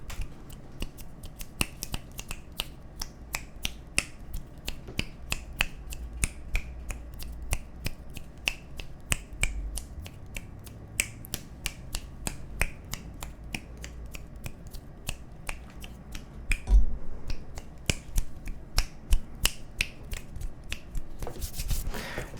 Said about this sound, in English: Somebody said I should snap my fingers